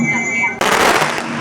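Firecrackers go off at a dragon boat festival on the river in Liede village, Guangzhou: a voice is heard briefly, then a sudden, loud, close burst of dense rapid crackling takes over and keeps going.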